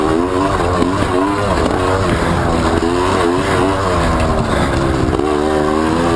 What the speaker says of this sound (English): Revving up.